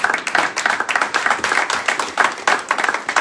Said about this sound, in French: Acclamons pour la parole du Seigneur.